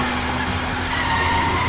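A car skids in a dubbed action-film scene, a sustained loud tire screech riding over a heavy engine rumble with no break.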